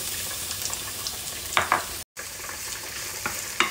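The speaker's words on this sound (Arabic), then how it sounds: "وبنقلب فيه البصل." Onion frying in olive oil sizzles steadily while a utensil stirs it, with a few sharper scraping strokes against the pan.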